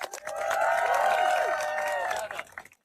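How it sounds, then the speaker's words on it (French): Volunteers at a Ramadan tent project applaud loudly, with a thick spread of clapping mixed with cheering and whooping voices, swelling and then dying away at the end. "Alors, applaudissez-vous bien fort"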